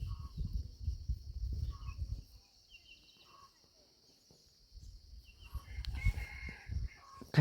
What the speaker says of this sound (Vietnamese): Gà rừng thì gáy ầm ầm.